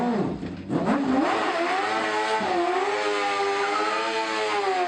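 A 660cc motorbike engine in a light kit car in the BeamNG driving game revs up high and holds a loud, whining, rising-and-falling engine note, close and alone.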